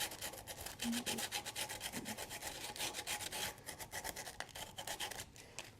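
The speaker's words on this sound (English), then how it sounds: "you're going to take the sandpaper and fold it in half, and then you'll have to go back and forth." Folded sandpaper rubs old stain off a wooden dresser by hand in quick, rhythmic back-and-forth strokes, soft and close with no voices.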